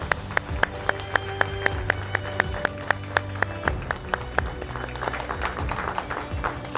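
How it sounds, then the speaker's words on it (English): Guests at a real estate company awards night give a round of applause, with loud, sharp individual claps standing out over a general crowd clatter and background murmur. "Let's give her a round of applause."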